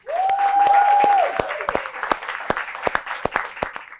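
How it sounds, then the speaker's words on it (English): Audience applause at a talk, with scattered sharp claps fading out, while a tonal whine or feedback rings briefly at the start. "please give a round of applause to Jesse Williams and Franklin Sirmans."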